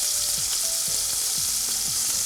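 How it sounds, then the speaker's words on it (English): Pork loin searing in a hot pan, a loud continuous sizzle and crackle with a few soft rhythmic scraping or stirring knocks underneath, close up and without voices. "As you can see, we're only going to sear it for a few minutes"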